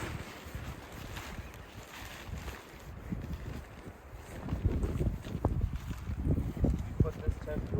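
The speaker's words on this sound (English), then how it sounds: "You have to peg this side so that the wind stops moving it so hard." Gusty wind buffets and flaps the fabric of a hot tent at a cold winter camp, a rough, rumbling roar that swells and grows heavier toward the end, with people talking faintly beneath it.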